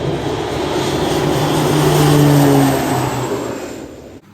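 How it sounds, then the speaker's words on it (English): A propeller airplane roars past at close range while landing at Bequia on a lovely evening, its engine drone swelling to a peak and then fading as it moves away. "We have a flight coming in, probably from Barbados."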